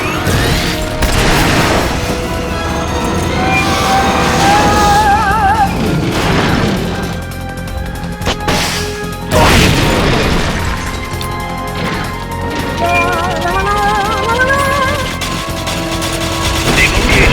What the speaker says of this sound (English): Firing boosters.